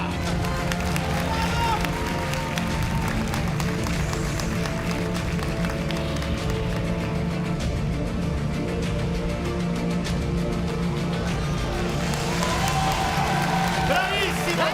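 An audience applauding continuously at a live show with children on stage, a dense, loud wash of clapping and crowd noise that runs throughout, with voices mixed in.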